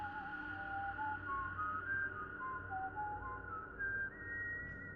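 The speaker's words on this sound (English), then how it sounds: "I hear the whistling again." Eerie, wavering whistling drifts through a series of sliding tones over a low steady rumble, faint and alone with no voices.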